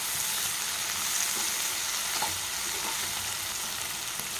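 Prawns and drumsticks cooking in oil for a raw mango prawn curry, an even, close sizzle holding steady throughout with faint stirring scrapes, no talking.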